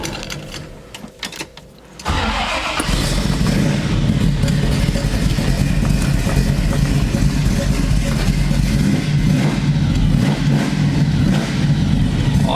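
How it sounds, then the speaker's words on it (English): A 1970 Chevrolet Camaro engine cranks and fires after a quiet moment, then settles into a steady, loud, rough idle with a deep rumble and some clatter, running cold and unbroken to the end. "We'll start this bad boy up a little bit and hear it run."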